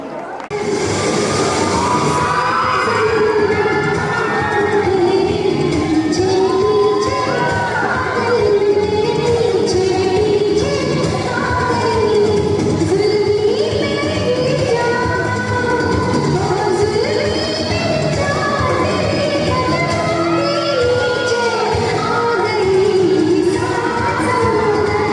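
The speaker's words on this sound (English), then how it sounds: "let's have a huge round of applause for Teachers Dancing Group" A large school audience cheers and applauds for a teachers' dance group at a 10th-grade farewell and passing-out parade, a loud, dense wash of crowd noise with shouts and whoops that carries steadily on without a break.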